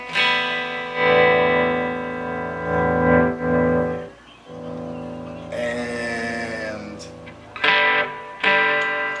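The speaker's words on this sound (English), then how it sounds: "letting you check out what this guitar sounds like using this DSL-20" Electric guitar, a 2018 Gibson Les Paul Goldtop, played through a DSL-20 amp on the clean channel with no gain and light reverb, strummed chords ringing out and then a few quicker plucked notes.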